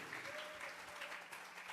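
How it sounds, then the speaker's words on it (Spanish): A church congregation claps steadily throughout a short stretch, soft and diffuse, with a faint voice audible beneath the clapping. "Dele fuerte esas palmas al Dios de la gloria."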